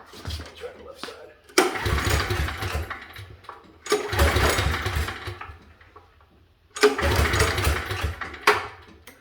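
A generator engine cranks three times and fails to start, each attempt a loud sputtering burst of a couple of seconds, separated by quieter pauses.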